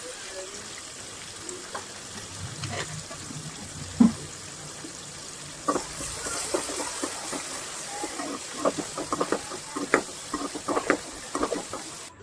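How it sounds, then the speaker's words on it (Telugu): Whole cloves and cinnamon sticks fry in oil in a pan for pulao, giving a soft steady sizzle with scattered pops and a few sharp clicks and taps from the pan. "తరువాత లవంగాలు, చెక్క వేసి బాగా వేగనివ్వాలి."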